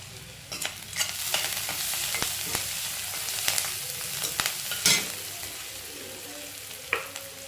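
Okra curry sizzles in a pan with turmeric added, a steady close frying hiss broken by repeated scraping stirs of a spoon against the pan.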